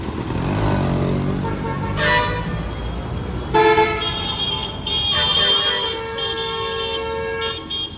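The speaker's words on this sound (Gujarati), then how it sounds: "ખાલી હોરણનો અવાજ સાંભળો" A luxury bus on a Surat street sounds its musical horn in several long, loud blasts with short breaks, over idling engine and traffic rumble.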